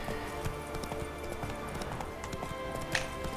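Horse hooves clip-clopping in the fantasy video game The Witcher 3: Wild Hunt, a quick steady trotting rhythm played close over ambient game sound, with a faint voice in the background.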